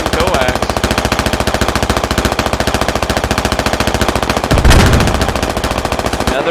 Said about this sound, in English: Just spamming coax.